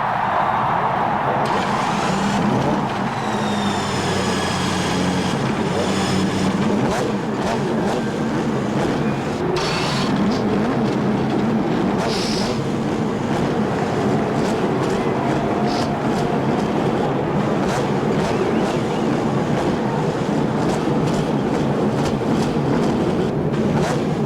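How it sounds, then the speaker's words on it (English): Indy 500 race car engines fire up and run at the Indianapolis Motor Speedway start, a dense, continuous roar of many cars with rising whines and crowd and track noise, loud and steady throughout. "Gentlemen, start your engine."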